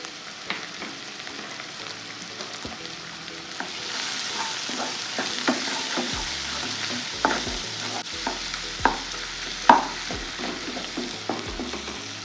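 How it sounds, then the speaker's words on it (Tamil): Tomatoes and onions with chili powder sautéing in a pan, a soft steady sizzle broken by repeated scraping and stirring knocks, close and alone. "வெங்காயம் எல்லாம் சேர்ந்து ஒன்றா வதங்கட்டும்."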